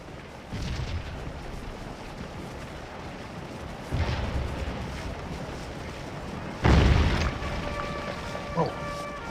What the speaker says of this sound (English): That artillery, it's painful.